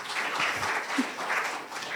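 Steady, moderately distant applause from a gathered audience at a memorial celebration, a soft continuous wash of many hands clapping with no talk over it.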